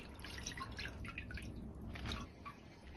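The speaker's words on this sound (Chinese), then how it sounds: "全部处理好后放入水中清洗干净" Water drips and splashes as celery is rinsed in a basin, a soft, busy patter of droplets that runs continuously, with no one speaking.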